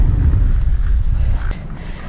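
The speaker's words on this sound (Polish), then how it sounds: "Tak wiatr wieje, że masakra, nie?" Strong outdoor wind buffets the microphone in a steady low roar, loud and continuous throughout, with a brief higher click near the end; no talking is heard.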